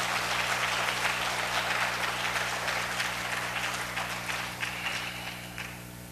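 A church congregation at an afternoon service gives thankful applause to welcome a pastor: a dense, sustained patter of many hands that slowly fades toward the end, over a low steady hum.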